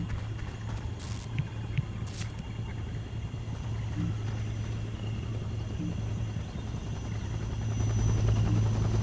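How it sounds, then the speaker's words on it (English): Helicopter gunship in the video game Conflict: Global Storm, a steady rotor drone that holds under the action throughout and grows louder near the end, with brief sharp high bursts early on. "Take that gunship down."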